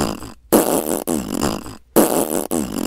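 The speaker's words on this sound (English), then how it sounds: "Why are you farting so much?" Loud, close fart sounds repeat in quick succession, several long raspy blasts separated by brief silences, one after another as a prank.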